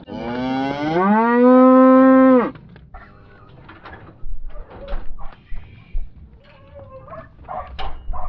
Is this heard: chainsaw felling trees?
no